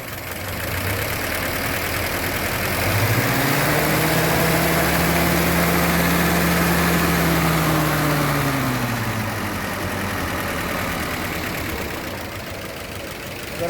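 A 1950s Willys CJ-3B jeep with a Hurricane engine idles loud and close, then revs up to a higher, rising hum that holds for several seconds before settling back to a steady idle.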